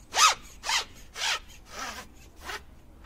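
Clamp on a Reachit XT extension pole being opened, giving five separate rasping, zipper-like scrapes in a steady rhythm, close up and with no talking.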